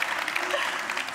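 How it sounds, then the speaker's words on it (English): Studio audience applause for the contestants, a short burst of dense, fairly soft clapping from many people. "they all deserve a very warm round of applause for all the work that they put in so far"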